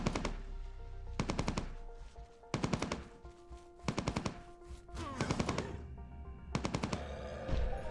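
Gunfire from the game Entropia Universe comes in rapid automatic bursts of several shots each, repeating about every second or so over a low, steady game ambience.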